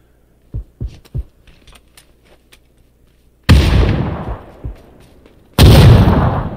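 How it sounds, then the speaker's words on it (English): In the video game PUBG, a few faint distant thuds are followed by two loud, close blasts of a frag grenade explosion, each with a long rumbling decay. "I think I hit him with a frag as well."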